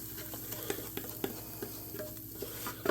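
A spoon scrapes and taps as reduced onions are spooned into mashed potatoes for a Polish potato-and-onion pierogi filling, with soft, scattered clinks.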